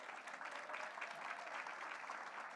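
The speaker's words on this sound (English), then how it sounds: "Give them a round of applause." Faint, steady applause from an audience greeting the participants of a business pitch competition. The clapping is even and unbroken and sounds distant and low in level.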